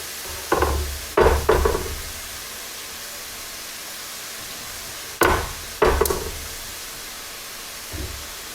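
Bean sprouts and green onion tops stir-frying in a pan with zucchini: a soft, constant sizzle broken by a few sharp clatters and tossing knocks in irregular clusters.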